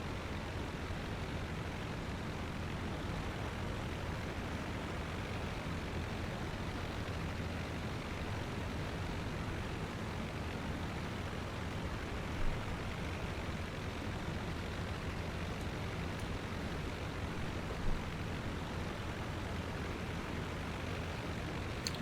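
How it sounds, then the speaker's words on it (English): Steady, unbroken roar of a World War I era plane engine in the Rise of Flight flight game, constant and loud throughout with no talk over it. "allow you to listen to the roar of the engine in the back of this plane as we sail slowly"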